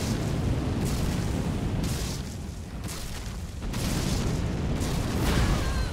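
Fire breather enemy in Elden Ring spewing flames, a loud roaring whoosh of fire in long surging waves, rumbling bursts rising and falling over several seconds.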